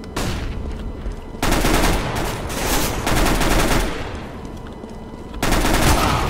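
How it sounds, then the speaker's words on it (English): Heavy gunfire in the CS:GO video game fills the scene in loud, dense bursts that surge and ease across the stretch. No separate flashbang pop stands out clearly in the mix. "Throwing a flashbang."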